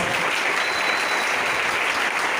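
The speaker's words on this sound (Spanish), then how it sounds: "Den un fuerte aplauso al Señor" A church congregation applauding loudly and steadily during a worship service, a dense continuous wash of clapping with no pauses and no voices standing out.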